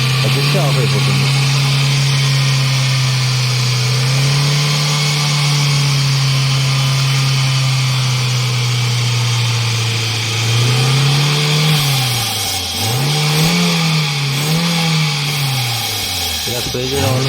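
A car engine revving while its throttle body is cleaned with spray, a loud close steady drone that rises and falls in several throttle blips toward the end, with a voice speaking over it.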